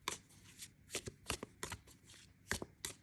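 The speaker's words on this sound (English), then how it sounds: "So now I'm pulling in a portal card." Tarot cards shuffled and handled, a series of soft, crisp riffles and taps in irregular bursts, quiet and close with no talking.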